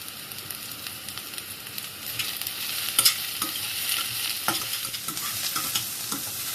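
Capsicum and onion are stir-fried with carrot for veg cabbage Manchurian, giving a close, constant sizzle with repeated spatula scrapes and knocks that grow busier toward the end, with no one talking.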